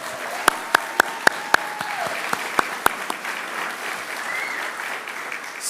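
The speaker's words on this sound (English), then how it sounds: "please stand so we can honor you with our applause" Scattered applause from a small audience honoring graduates at a military-affiliated graduation ceremony, a handful of sharp, distinct claps spread over a few seconds before trailing off into quiet room tone.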